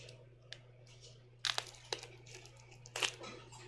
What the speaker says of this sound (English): cut the plastic packaging off